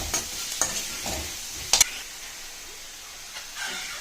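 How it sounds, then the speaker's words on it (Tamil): Onions sauté in a pan for tomato onion thokku, a soft steady sizzle broken by a few sharp scrapes and clinks of a stirring spoon, close up. "இப்போ இந்த வெங்காயத்தை நல்லா வதக்குங்க friends."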